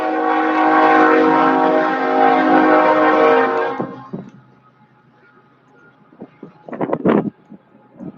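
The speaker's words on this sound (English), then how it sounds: "Train." A train passes with a loud, sustained horn blast lasting several seconds, then fades to quieter rail rumble with a few sharp clanks near the end.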